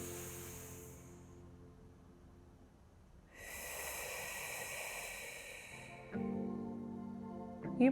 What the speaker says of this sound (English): Breathing in 1, 2, 3 and exhaling 3, 2, 1